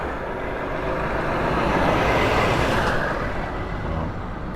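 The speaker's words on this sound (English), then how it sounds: "there's a lorry going past" A lorry drives past near the Bramley-Moore Dock construction site of Everton's new stadium, a loud, steady broadband rumble that swells toward the middle and eases slightly at the end, with no talk.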